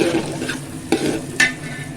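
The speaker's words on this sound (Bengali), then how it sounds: "আঁচ বাড়িয়ে আমি আর একটু গরম মশলা চালেও দিয়ে দিলাম চালটা ভালো করে ভেজে নেব" Rice with garam masala dry-fried over high heat and stirred, a light sizzle with two or three distinct spatula scrapes against the pan, close and fairly loud, no speech.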